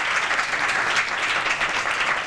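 Studio audience applause during a Ramzan iftar transmission on Pakistani television, a steady dense clapping that holds at full level for the whole stretch with no talk over it.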